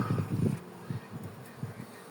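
Low, steady honeybee buzzing close by at a hive during a beekeeper's frame inspection, swelling and fading in short bursts.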